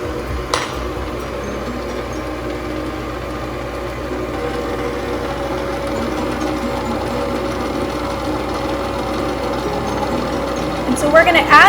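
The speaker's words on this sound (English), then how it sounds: "So now with the motor running on your mixer, we're going to combine our wet ingredients to our dry ingredients." Stand mixer motor running steadily while mixing pizza dough for a rustic vegetable pizza, a constant mechanical whir with faint knocking that grows slightly louder near the end, with a person talking over it.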